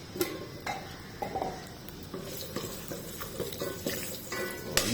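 Continuous sizzling of food frying in a pan, with frequent scraping and stirring clicks throughout; no voices.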